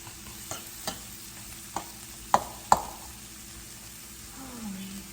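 Shrimp and mushrooms cooking in a pan for a sandwich, heard as a steady low sizzle with several sharp utensil taps and stirring knocks against the pan, close and clear.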